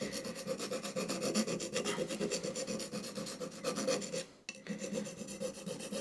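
Hand plane blade honed by hand on a sharpening surface, a steady back-and-forth rasping rub repeated in quick strokes, close and quiet, with a brief pause near the end before the strokes resume.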